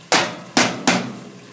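Fresh parsley chopped with a knife on a board: three sharp, close chops in an uneven rhythm, each with a short ring-off, no talking.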